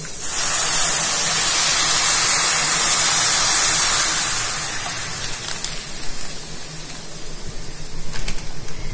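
Milk poured over carrots in a hot pan for gajar halwa: a loud, bright hiss bursts up at once and holds steady, then softens into a quieter bubbling simmer with a few faint clinks.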